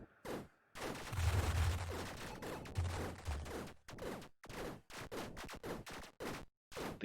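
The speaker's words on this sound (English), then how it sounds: "Makes our burst fire a second volley of burst to go with it." Rapid bursts of sci-fi gunfire from the space shooter game Nova Drift, with double-volley burst shots crackling in quick clusters, broken by short gaps and sharp repeated pops, loud and close.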